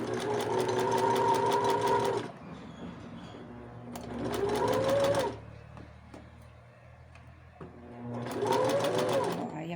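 Sewing machine stitching a shoulder seam on a garment: three separate bursts of rapid, close mechanical stitching, with quieter gaps between them where low speech can be heard.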